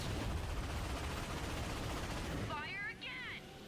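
Dense, continuous barrage of missile fire and explosions in the Ratchet & Clank video game, loud and unbroken, then thinning near the end as short warbling electronic game effects come in.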